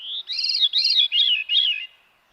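A veery, a migratory songbird, sings a short descending run of clear, ringing phrases, four or five quick notes in a row, loud and close with no other sounds.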